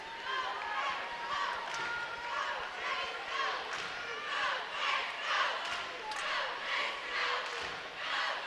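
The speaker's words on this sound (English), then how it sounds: "Manhattan crowd getting into it in support of the wrestler Jay Stone." A Manhattan crowd at a Class 6A wrestling final cheering and shouting in support of wrestler Jay Stone, a continuous swelling roar of many voices with a commentator talking over it.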